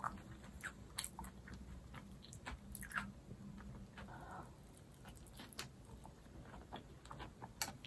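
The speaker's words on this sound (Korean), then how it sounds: "김치랑 같이 먹으니까 쏙쏙 들어가네." Chewing on a vegan kimchi pancake eaten together with kimchi, with soft, irregular bites and wet mouth clicks up close, fairly quiet and without talk.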